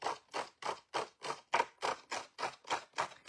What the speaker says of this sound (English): we're just going to run the blade of our scissors down